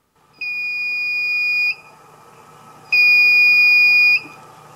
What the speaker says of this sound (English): it will beep at you if there is continuity